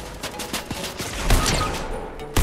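Rapid gunfire bursts in Fortnite OG, a quick series of sharp cracks over a few seconds with a heavier hit near the end, against busy game noise.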